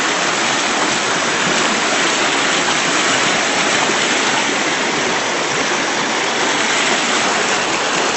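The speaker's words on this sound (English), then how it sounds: "And the creek has become very wide here." A wide creek about 35 feet across on waterlogged ground, its flow a dense, unbroken rushing roar that is loud and close and holds steady throughout.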